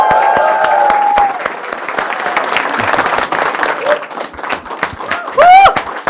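An audience applauds to welcome Dr Vikas Divyakirti onto a stage, with loud, sustained clapping from a large crowd that fills the whole stretch and a few voices and whoops rising through it.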